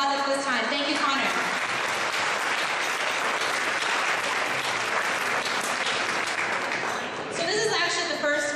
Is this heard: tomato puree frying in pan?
no